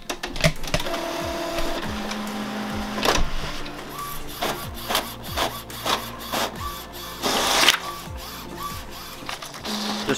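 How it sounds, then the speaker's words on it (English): An Epson XP 620 inkjet printer prints a three-page document for several seconds, its carriage whirring and clicking in repeated mechanical passes, with louder feed sounds as paper moves through. "here we're printing off a 3-page document, and I'm just gonna show you how it sounds"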